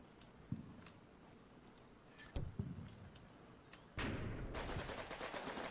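Troops open fire in the Combat Mission: Market Garden war game, with a few sharp isolated shots at first, then a dense, continuous burst of gunfire breaking out and sustained at moderate distance.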